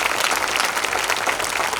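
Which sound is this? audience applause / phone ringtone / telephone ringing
audience applause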